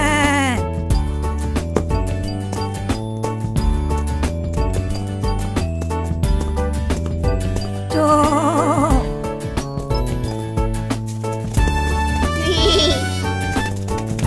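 Cartoon sheep bleat several times over a steady, bouncy musical backing for a children's addition lesson, with the wavering bleats sitting clearly above the music.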